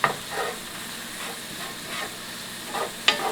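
Minced garlic sizzles in hot oil in a pan while being stirred in, a steady close frying hiss with occasional scraping clinks of the utensil at the start and end.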